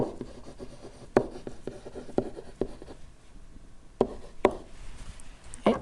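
Pen or marker writing during a trigonometry lesson on tangent ratios, heard as steady scratchy strokes with several sharp taps, close and fairly quiet, with no talking.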